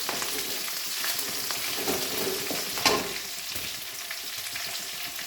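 Green chillies and curry leaves frying in hot oil in a pan, a dense, continuous sizzle with scattered pops and crackles and a brief louder spatter, close by and without voices.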